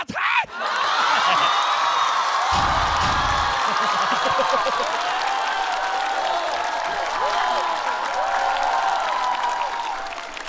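Stand-up comedy show audience bursts into loud, sustained cheering and applause with whoops and shouts, a dense crowd roar filling the room throughout.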